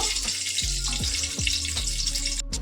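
Oil heats in a pan for frying after cauliflower pieces are lifted out for a fish curry, giving a loud continuous sizzle and hiss with several quick scraping sweeps, close and unaccompanied by speech.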